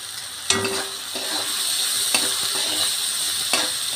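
Chopped potatoes and green chilies drop into a pan of small shrimp frying in oil, raising a steady close sizzle with a few sharp stirring clanks and scrapes spread throughout.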